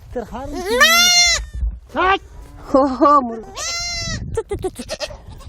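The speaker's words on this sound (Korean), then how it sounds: "새끼에게 젖을 물릴 수 있도록 아기 염소를 어미의 품으로 돌려보내주는데요" Goats and baby goats bleating on a Mongolian farm as kids are returned to their mothers, several loud, close, wavering bleats in quick succession, with a person speaking briefly among them.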